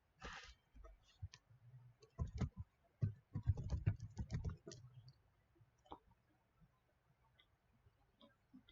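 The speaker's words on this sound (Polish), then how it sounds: "Wpisujemy nazwę domeny, jaką chcemy zarezerwować." Typing a domain name on a computer keyboard: quick, fairly faint bursts of key clicks for about five seconds, then near quiet with a few scattered taps.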